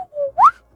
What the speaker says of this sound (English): the whistling must be really annoying